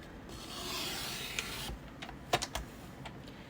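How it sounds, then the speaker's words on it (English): Paper trimmer slicing through card stock while making a gift card holder: a short scraping rub across the first seconds, then a few brief clicks and taps as the guide is handled, quiet and close with no talking. "So use your trimmer"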